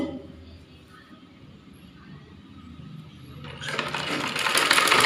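A sewing machine stitches lace onto a saree blouse, starting as a low mechanical rumble and swelling into a loud, dense whirring run in the last second and a half.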